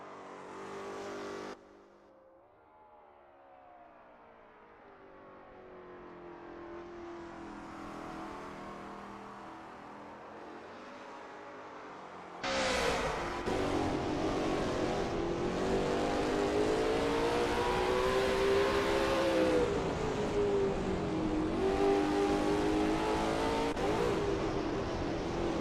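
Lola T70 MkII Spyder race car in a racing game at Bridgehampton, its engine note steady and then rising sharply into loud, high revs through a turn, with pitch swinging up and down as the car accelerates.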